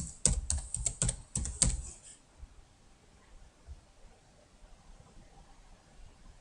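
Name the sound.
typing on a computer keyboard to log in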